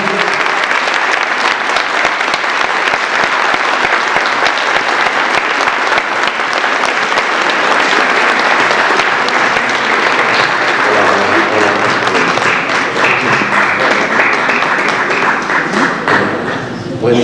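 Loud, dense applause from a gathered audience welcomes Carlos Bianchi in San Justo, steady clapping with occasional thumps that carries on for several seconds before thinning out near the end.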